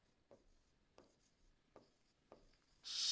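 A pen writes an answer on paper in four short, faint strokes spaced evenly apart in a quiet room, followed by a louder rustling burst at the end.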